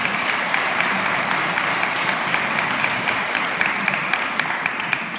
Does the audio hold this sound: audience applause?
yes